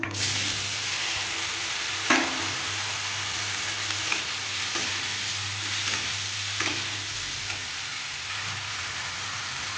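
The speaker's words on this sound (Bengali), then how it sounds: "বেগুনগুলো ভাজার জন্য এই যে কড়াই একটু তেল দিয়ে দিলাম তার মধ্যে একটু হলুদ দিয়ে দিলাম" Eggplant fries in oil with turmeric in a wok, making a continuous close crackle, with a few sharper spatters and stir knocks. A low hum sits underneath.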